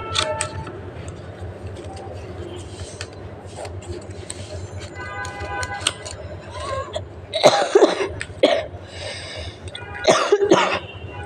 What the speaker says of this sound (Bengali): তো একটু কাশি আসে আমার